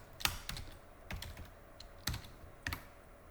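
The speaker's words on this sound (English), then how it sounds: "I could come in here and type in the name" Keys tapped on a computer keyboard while entering a name in Excel: four or five separate, close keystrokes spaced unevenly over a few seconds, quiet and alone.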